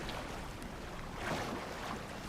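Sea waves in the game Sons of the Forest wash steadily beneath gusty wind noise, a continuous soft surf with a slight swell in the middle, fairly faint and with no talking.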